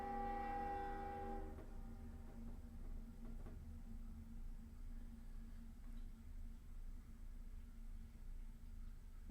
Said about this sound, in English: Boy, there's another train.